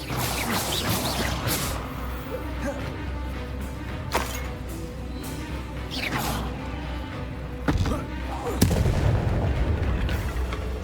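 Explosive spell blasts in the video game Hogwarts Legacy, with sharp booms and crashes breaking through a continuous rumble of combat, the loudest blasts coming near the end.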